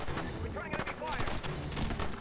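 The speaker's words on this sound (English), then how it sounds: "Returning enemy fire!" Bursts of rapid gunfire in the SOCOM 3 video game, loud and close, with dense crackling shots packed into a couple of seconds and a voice briefly heard over the shooting.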